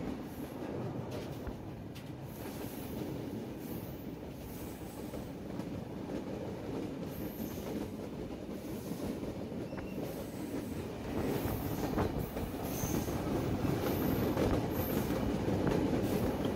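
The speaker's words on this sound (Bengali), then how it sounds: "4টা 30-এর পর আমাদের ট্রেনটি বেনাপোল স্টেশন থেকে ছেড়েছে" Rupshi Bangla Express passenger train running out of Benapole station on its inaugural trip, with a continuous loud rumble and rattle of carriages and wheels on the track that grows louder toward the end.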